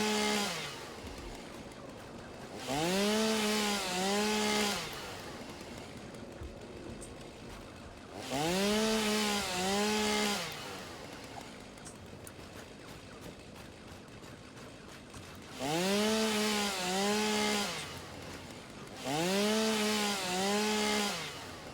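Chainsaw in the video game Satisfactory cutting through plants and flowers, heard as four loud, raspy revving bursts of about two seconds each, separated by quieter idling stretches, with no talking.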